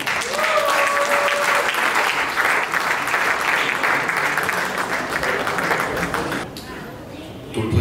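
A wedding audience applauds and cheers steadily to welcome a pastor at a Congolese celebration in the USA, a sustained wash of clapping and crowd noise that fades near the end.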